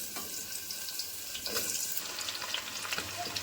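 Potatoes tossed into hot oil already sputtering with dried red chilli, nigella seeds and green chilli make a close, hissing fry with a brief louder burst midway, alone without voices.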